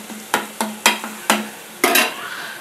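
Onions, green chillies and garlic masala tossed in a pan, giving six sharp scraping stir strokes over a soft steady sizzle, with no talking.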